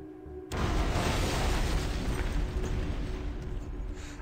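A sudden explosion in a video game bursts in after a brief quiet opening, then a dense, roaring rumble sustains loudly to the end.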